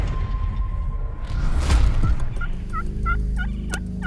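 Rio Grande wild turkeys gobble in several rapid, rattling bursts from a moderate distance, overlapping one another over a low rumble of outdoor background noise.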